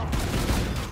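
Rapid burst of gunfire in a zombies video game, a dense, continuous rattle of shots that stays loud and close for the whole moment, with no pause between blasts.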